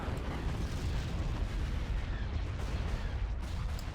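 Cannon fire in the Star Wars: Empire at War space battle rumbles as a dense, continuous barrage of heavy booms and blasts, loud and sustained with no pauses.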